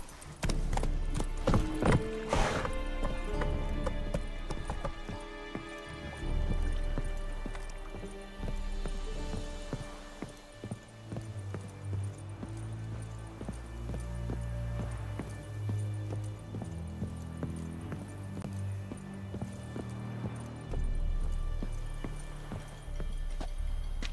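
Roach the horse galloping in The Witcher 3, rapid rhythmic hoofbeats pounding close by throughout, with brief heavier thuds and some rustling, a few low voice sounds mixed in.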